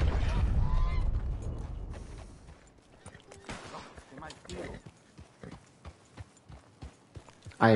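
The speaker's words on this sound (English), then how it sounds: "I am pretty sure those were geese." Geese honk briefly in Red Dead Redemption 2 as a horse's hooves clop in a steady rhythm, and a voice talks over part of it.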